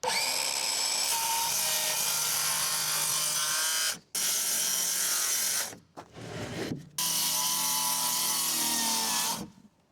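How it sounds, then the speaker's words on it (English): A power saw cuts a big sheet of 3/4 inch plywood clamped on stands, a loud steady whine with a brief stop near four seconds and a short gap before the cut resumes to finish, no talking. "That is definitely the easiest I've ever cut a big sheet of 3/4 inch plywood."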